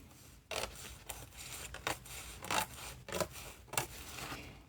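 Scissors trimming the paper edges of a handmade Christmas junk journal cover: about six crisp, separate snips in quick succession, close and fairly quiet against a soft room background.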